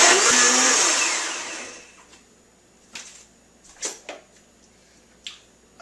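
Kitchen blender grinding kale and garlic for soup, a loud close whirring for about two seconds that winds down and stops, followed by a few scattered clicks and knocks.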